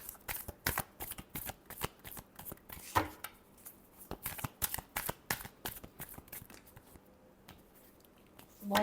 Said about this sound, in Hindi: बहुत सारे कार्ड्स गिरे